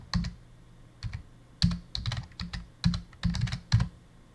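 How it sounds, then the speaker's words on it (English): Fingers type on a computer keyboard in short irregular bursts of crisp clicks, close and fairly quiet, with brief pauses between runs of keystrokes. "I will type the name of the Pokemon."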